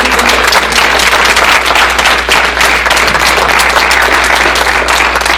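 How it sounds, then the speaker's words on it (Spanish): A Mexico City lecture audience applauds to welcome the next speaker at a talk on topology in computational genomics. Dense, steady clapping fills the room at close range, with a low hum underneath throughout. "vamos a darle un aplauso para darle la bienvenida"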